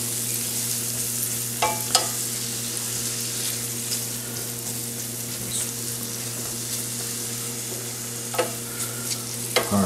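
Onion fries in a pan with a low, even sizzle, broken by a few sharp clinks and scrapes of stirring, with no voices.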